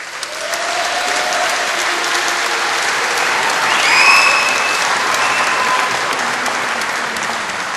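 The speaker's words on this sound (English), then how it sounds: "I'm not used to people clapping." A room full of people claps at a boxing press conference in Manchester for the Hatton–Mayweather fight. The applause is loud and sustained, swelling briefly in the middle, with a few whistles rising above the clapping.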